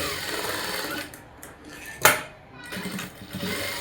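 A sewing machine stitches the side seam of a blouse in two bursts of rapid close clatter, separated by a pause with a sharp click in the middle.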